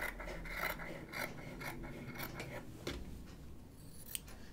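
Scissors trim the seam allowance on shirt fabric, close and fairly quiet. The snips come in quick, uneven bursts of crisp blade cuts, and no voice is heard.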